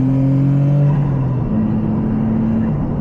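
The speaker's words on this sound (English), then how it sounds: "We have rolling anti-lag in this car." A Toyota GR Corolla engine runs with rolling anti-lag, a close, loud rumbling drone with held tones that shift pitch as the revs change, over a few seconds.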